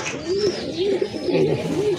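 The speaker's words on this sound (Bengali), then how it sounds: "এই যে দেখেন ভাই এটা কিন্তু এক পিস মাদি কবুতর" A single female pigeon coos in a steady repeating rhythm of low, rolling calls, close and clear, with no talk over it.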